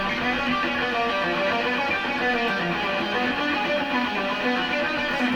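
Electric guitar playing a fast diminished lick with rapid speed picking, a dense steady run of notes that continues without pause and sits alone at an even, moderately loud level.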